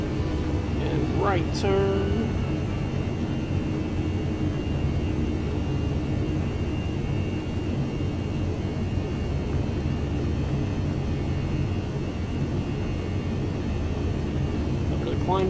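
A ToLiss A319 airliner climbing out of Ottawa in the X-Plane 11 flight simulator gives a steady, loud cockpit engine rumble and hum that runs throughout, with a short chime near the start and a person talking briefly over it.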